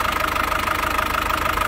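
A 2004 Isuzu Highlander with a 2.5-litre diesel engine and automatic gearbox idles steadily, a close, loud, even diesel clatter with a regular low pulsing and no voices.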